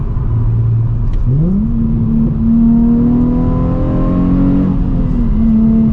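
A Nissan 350Z with a Megan Racing exhaust revs while being driven, its engine note climbing steadily and holding a loud, droning tone before easing off, heard close with no talking.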